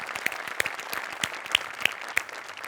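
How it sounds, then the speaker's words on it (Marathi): Audience applause for two performers on a Marathi comedy stage show, a steady crowd clapping with a few sharper individual claps standing out, continuous throughout and no voices. "पण त्या दोघांसाठी जोरदार टाळ्या झाल्या पाहिजे"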